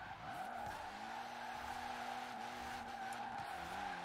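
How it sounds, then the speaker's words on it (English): Tire squeal from a car on drag tyres sliding sideways in Forza Horizon 4, a loud continuous screech with wavering pitch over steady engine noise, alone without talk. "this car goes very sideways with very little effort"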